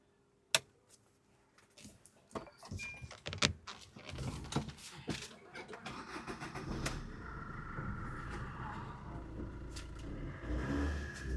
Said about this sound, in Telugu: ఫ్రెండ్స్, వెహికల్ ఇంజిన్ రేస్ చేస్తున్నాం